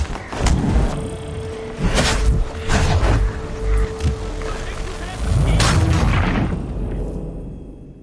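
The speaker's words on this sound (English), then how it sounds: "Those cannons are like to cause trouble." Several heavy cannon booms go off in bursts in the video game Assassin's Creed III Remastered, loud and close, with a low rumble lingering between blasts.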